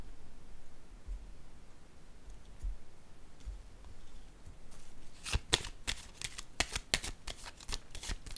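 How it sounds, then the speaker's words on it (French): Tarot cards being shuffled and drawn, heard alone as a faint rustle that turns into a quick run of crisp card flicks and snaps toward the end. "Je vais maintenant piger une carte sur séparation."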